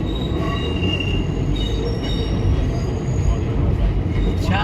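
Train wheels squeal steadily on the rails, with a loud, continuous metallic screech over heavy rumbling that carries on throughout.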